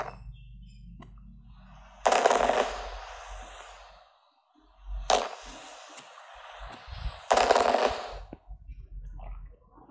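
Fireworks at a festival in the farming video game Harvest Town: three loud, hissing bursts, each trailing off, with quieter gaps of low rumble between them.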